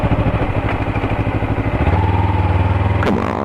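A vehicle engine rumbles loudly and close in a steady idle-like throb, then shifts to a deeper, stronger drone partway through as it swings around in a U-turn, with a brief higher whine near the end.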